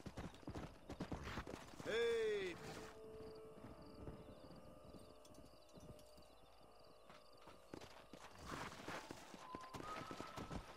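Horses in the Red Dead Redemption video game trot with steady clip-clop hoofbeats and let out one clear, loud neigh, while a voice speaks briefly.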